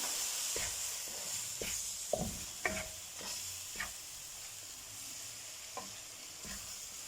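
Milk poured little by little into gram flour roasting in a pan for raw turmeric halwa, with a faint steady sizzle and a series of soft spoon stirs and scrapes at irregular intervals.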